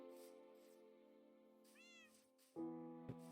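A cat meows in a video game, a rising and falling call around the middle, with steady game music and tones running underneath and a louder musical hit near the end.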